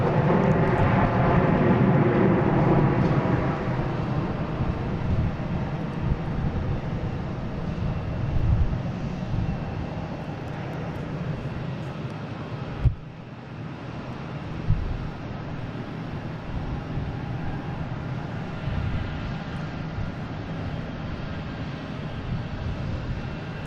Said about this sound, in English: See the wings vibration there in the reverse thrusters.